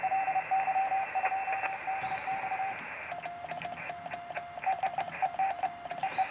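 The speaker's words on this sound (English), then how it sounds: "There he is calling CQ." A ham radio station calling CQ in Morse code, thin steady tone beeps with on-off keying over radio hiss, then a brief pause and more choppy keyed tones.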